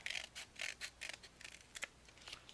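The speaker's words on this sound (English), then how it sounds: "I'm just gonna cut this piece off." Scissors snip through paper while a page is trimmed for a Photo Play Frosty Friends mini album: a quick run of close, crisp cuts in an uneven rhythm, quiet and with no voices.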